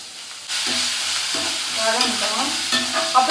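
Onion and garlic fry in a hot pan, a loud, continuous sizzle that flares as they land, with stirring scrapes, close and without talk.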